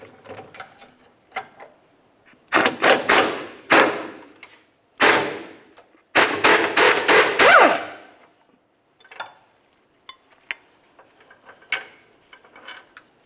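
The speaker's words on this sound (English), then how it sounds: "We're going to want to remove that using an 18mm along the top to hold the bolt head and an 18mm for the bottom nut." Metallic clanks and ratcheting bursts come from an 18mm wrench working a leaf spring hanger bracket bolt on a 1994-2002 Dodge Ram 2500, in several close, loud clusters separated by pauses and softer taps.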